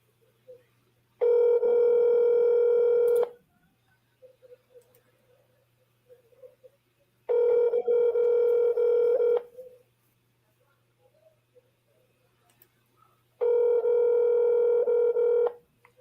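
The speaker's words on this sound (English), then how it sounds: "let me give Wesley a call here" A telephone plays dialing and ringback tones while a call is placed during a live seller call, three long loud tone bursts separated by quiet gaps with faint voices between them.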